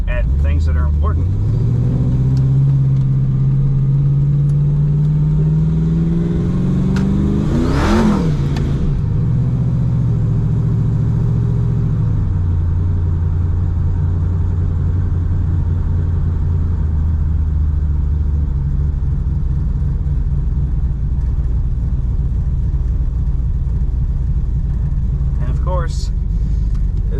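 Turbocharged Dodge Dakota R/T pickup with twin turbos revs up under load while driving, engine tone rising then dropping and settling into a steady cruising drone with a slight stumble, loud and close, with a person talking over it.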